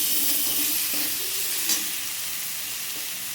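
Cumin paste and ginger paste sautéing in a pan: a steady, close sizzling hiss that fills the whole stretch, with faint scraping from stirring, one small knock and a slight easing toward the end.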